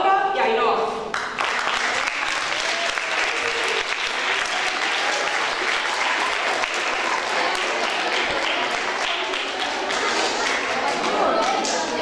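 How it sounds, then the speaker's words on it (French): Audience applause for student performers at a French-language school festival at I.E.S Alonso de Madrigal, steady and full for about twelve seconds, with a voice briefly heard at the start. "Applaudissons à Julia, Carla, Cristina, Claudia, Laura et Ainhoa."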